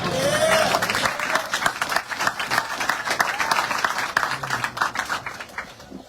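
A crowd outdoors at the ribbon cutting and opening of a bike park breaks into sustained applause, a dense and fairly loud stream of many hands clapping that slowly thins toward the end.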